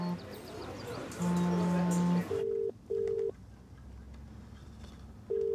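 A telephone being dialed, with a long steady tone followed by short, evenly spaced beeps, loud and close against a quiet room.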